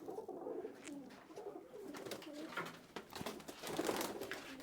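Several pigeons kept for sale coo softly at close range, overlapping low throaty calls in an irregular rhythm, fairly quiet.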